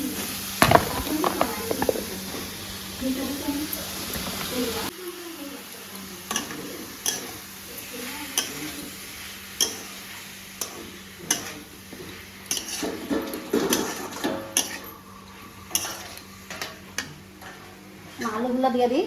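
Eggplant pieces fry in spiced oil for a Bengali potato-eggplant dish with dried kachki fish, giving a steady close sizzle broken by clinks and scrapes of stirring while a person talks over it.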